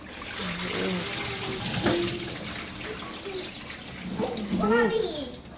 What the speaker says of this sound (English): These are going rinse under some salt water.